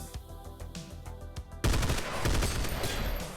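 Automatic weapon fire in the video game Synthetik: a rapid string of sharp shots, then a louder, dense burst of continuous gunfire with no talking.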